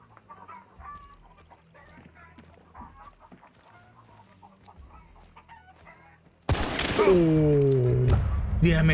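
Chickens cluck faintly in the distance inside the video game Hunt: Showdown for several seconds, then a loud burst of squawking and honking fowl breaks out close by near the end.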